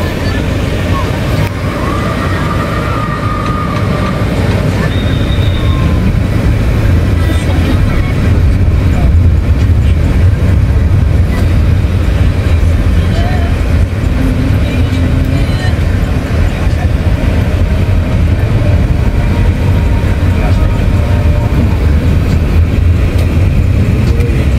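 An MRT elevated train passes overhead, a continuous loud rumble and rail roar that holds steady throughout, with street ambience around it.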